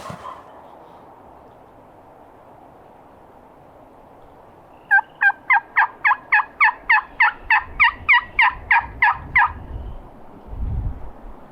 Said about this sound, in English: I just spotted the gobbler.